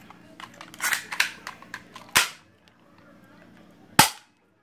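An empty BB gun, loaded with no BBs, cocked with a series of quick mechanical clicks, then two sharp snapping shots about two seconds apart, close and loud.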